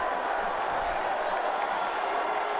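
A college football stadium crowd at North Texas vs Western Michigan roars steadily, a dense wash of cheering voices filling the whole moment without pause.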